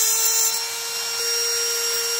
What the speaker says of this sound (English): I cut with the Dremel right there